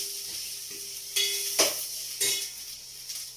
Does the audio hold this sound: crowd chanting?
no